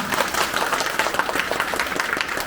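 Audience clapping for a performer at an aipan folk-art event at Triveni Kala Kendra, a dense steady patter of many hands filling the whole stretch at moderate loudness, with no speech over it.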